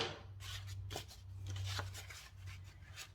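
Scissors snip through paper in several quick, quiet cuts over a steady low hum, with no talking.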